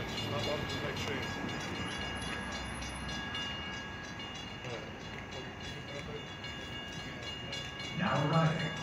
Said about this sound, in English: Now arriving on track 1, platform A is the 9:04 p.m. train to Jamaica.